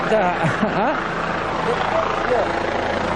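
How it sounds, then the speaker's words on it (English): Loud, continuous helicopter rotor thrum close overhead at the Czech Grand Prix race, with people talking underneath the noise. "there's a helicopter hovering over us"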